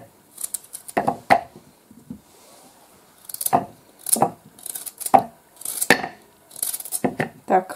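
Vegetables for a borscht dressing being chopped with a knife on a board, giving several sharp, separate cuts at an uneven pace, close and fairly loud, with quiet talk in between.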